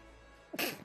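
A single sharp sneeze bursts out abruptly up close after a quiet moment, loud and brief.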